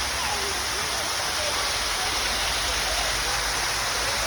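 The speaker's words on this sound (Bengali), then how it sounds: "রিয়াদ মিউজিয়ামে দেখেন অসাধারণ একটা ঝর্ণা দেখেন" An indoor waterfall at a museum in Riyadh rushes as a steady, loud wash of falling water that runs unbroken throughout, with no other sounds standing out above it.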